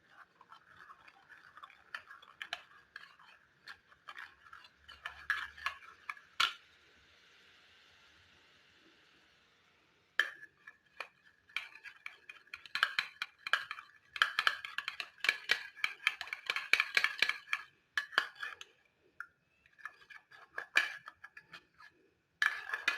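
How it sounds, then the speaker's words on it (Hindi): A spoon stirs custard powder into half a cup of milk, giving rapid, close clinks and ticks against the bowl in irregular bursts, with a brief lull in the middle before the stirring resumes. "इसमें मैं हाफ कप दूध डालूंगी और अच्छी तरह इसको दूध के साथ मिक्स करेंगे"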